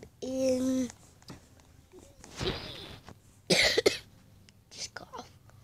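A child coughs several times while playing Roblox, short raspy bursts scattered between babbling and other vocal noises at close range.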